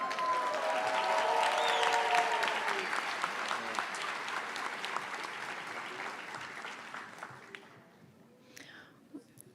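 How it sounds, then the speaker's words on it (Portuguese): An audience at an award ceremony for student writing and drawing prizes applauds steadily for several seconds, then the clapping thins and fades to a few scattered claps. "Vamos aplaudi-lo"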